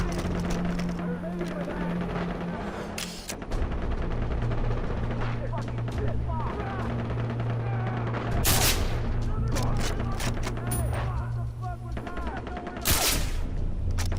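Gunfire in the Far Cry 3 video game, with repeated sharp shots and bursts of automatic fire, several loud blasts standing out among them, under excited talk from players and a steady background drone.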